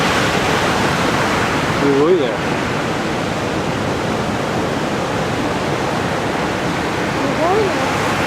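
High ocean waves crash on the shore at Aoshima coast in Miyazaki after a typhoon, a loud, continuous roaring surf wash, with people briefly speaking over it.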